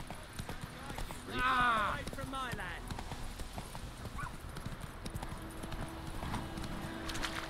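Horse in The Witcher 3 video game, rhythmic clip-clop hoofbeats with a loud neigh early on, continuing steadily under a person talking.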